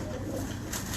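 Pigeon kept by a pigeon fancier coos softly and briefly, a faint low murmuring call in a quiet setting.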